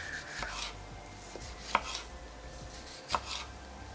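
A sharp knife cuts food into sandwich-size slices on a board, with a few distinct, separated chops over a quiet kitchen background.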